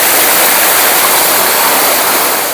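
A cold mountain river rushes steadily beneath a temporary wooden bridge in the high mountains of Jammu and Kashmir, a loud, continuous broadband roar with no breaks.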